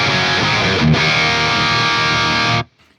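Heavy distorted electric guitar through the red channel of a Synergy Angle Powerball amp module, a dense, loud, sustained chord with a brief re-strike partway through, then a sudden stop.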